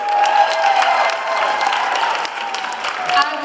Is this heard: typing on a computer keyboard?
no